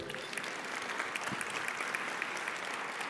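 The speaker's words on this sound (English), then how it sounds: "Give them a round of applause." Diners at an evening fundraiser gala give a round of applause for a live funk organ trio, a steady wash of many hands clapping, fairly soft and distant, with no talking over it.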